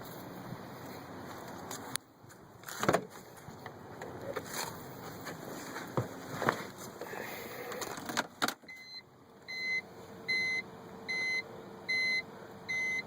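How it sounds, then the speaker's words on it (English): A BMW E46 3 Series fuel pump primes after the key is cycled on, a steady faint hum starting partway through, overlaid by a regular series of electronic chime beeps and some clicks. "Now I heard my pump run"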